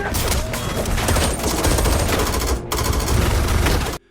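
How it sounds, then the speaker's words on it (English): A film gunfight in a laundry shop, one man against ambushers, brings loud, dense, continuous fusillades of automatic gunfire that blaze almost nonstop for four seconds with a brief break, then cut off abruptly. "Bo-san knows they're there and another gunfight begins"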